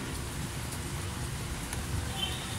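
Steady rain falling, a dense even hiss of drops on surfaces heard close and continuous, with no voices.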